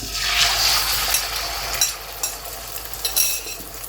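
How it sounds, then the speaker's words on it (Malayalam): Beaten eggs hit hot refined oil with a loud surge of sizzling that eases off, followed by scraping and tapping as the eggs are scrambled in the pan; nobody speaks. "അപ്പം നമ്മൾക്ക് ഈ മുട്ട അതിലേക്ക് ഒഴിച്ചു കൊടുക്കാം."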